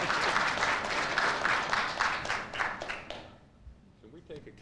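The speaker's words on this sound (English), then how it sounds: "let's see if you keep on clapping" Audience applause at a foreign policy panel discussion fills the first three seconds, a dense patter of clapping that then fades out abruptly, leaving faint room noise and a few stray sounds.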